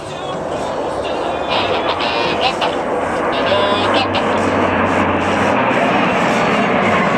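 Eight aircraft fly a crossed-formation roll at the La Ferté-Alais air show, their engines a steady, distant drone that rises in the second half, with a commentator talking over the sound throughout.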